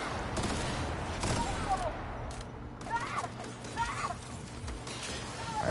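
A shot cannon fired repeatedly in the video game The Outer Worlds, with bursts of blasts and impacts that come and go amid combat noise, under a voice.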